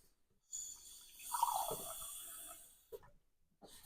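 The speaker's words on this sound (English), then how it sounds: "I'm just going to put an extra half a cup of water in." Water pours into an osso bucco pot in one steady stream lasting about two seconds, close and fairly quiet, then a couple of faint clinks afterward.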